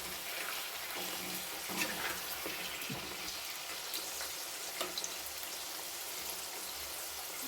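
Jackfruit pieces dropped into hot oil for Kerala-style jackfruit chips, giving a steady dense bubbling hiss with a few faint clicks, moderately quiet and without voices.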